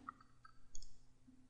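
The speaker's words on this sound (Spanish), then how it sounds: "Damos clic en aceptar." Faint, sharp computer mouse clicks while software is operated: a couple of tiny isolated taps over quiet room hiss, with no talk.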